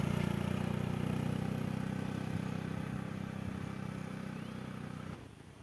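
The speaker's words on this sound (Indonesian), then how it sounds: "dan di sini ada beberapa motor yang pada lewat" Motorcycles ride past in a village, a steady droning engine hum with light clatter that fades slightly before cutting away near the end.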